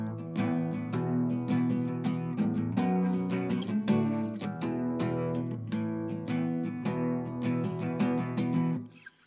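Strummed guitar chords playing the opening part of an indie rock song, steady rhythmic strokes with ringing harmonics for about nine seconds, played alone and cut off sharply at the end.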